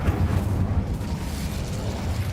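Incendio fire spell cast in Hogwarts Legacy, a steady low roaring burst of flame that rumbles continuously for a couple of seconds with no talk over it.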